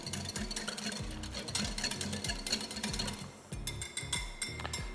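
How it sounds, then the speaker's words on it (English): A whisk beats seasoning into a salmon patty mixture, knocking against the bowl in a fast, steady series of taps and scrapes that runs throughout, close and fairly loud. "whisk it in."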